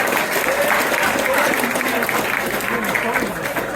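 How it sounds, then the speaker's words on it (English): A rally crowd at a fundraising event for Jeremy MacKenzie in Hamilton, Ontario, breaks into sustained applause, dense and steady clapping filling the room with a few cheers mixed in. "give yourselves a round of applause for coming out for Jeremy"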